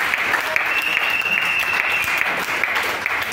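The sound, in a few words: congregation applause offered to the Lord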